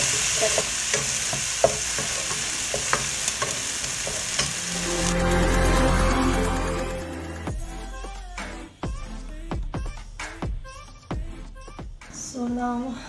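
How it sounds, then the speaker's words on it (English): Onion frying in a pan with salt and pepper for a tuna korma, a steady loud sizzle with stirring scrapes, swelling as the onion goes in and then crackling in uneven bursts, with no talk. "I'm going to add the onion and also I'm going to add the salt and the pepper"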